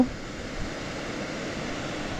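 Strong rushing water pouring down from a mountain beside a highway, a steady broadband roar that holds at an even level from start to finish, with no voices.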